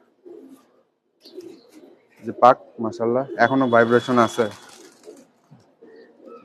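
Soft, low pigeon coos from tournament-flying pigeons at a home loft surface at the start and end, while someone talks loudly over the middle.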